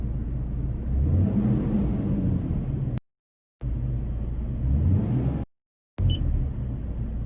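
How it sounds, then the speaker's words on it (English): From inside the cab of a Toyota Tacoma with chopped exhaust, the engine gives several deep, rumbling rev swells, broken by two short silent gaps. "Let's rev it a couple of times in here."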